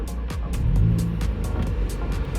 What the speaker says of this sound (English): So now we're gonna go ahead and start the car